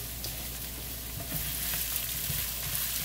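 Meatball and vegetable stir-fry sizzles steadily in a pan, a continuous close frying hiss that grows a little louder partway through, with no talking.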